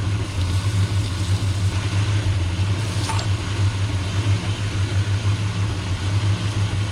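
A 1978 El Camino engine runs while its air conditioning clutch is burnished, giving a steady, close idling drone that holds even throughout, with a faint brief higher tone near the middle.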